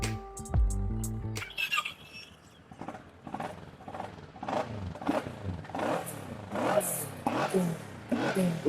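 A Kawasaki ER6 motorcycle fitted with an aftermarket Yoshimura exhaust revs in several rising and falling bursts, loud and close, after a brief clatter at the start.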